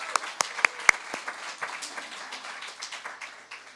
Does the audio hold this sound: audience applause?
yes